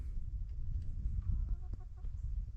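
Chickens clucking softly inside a coop on a snowy sheep pasture, a few short muffled clucks in a quick series against a low background rumble.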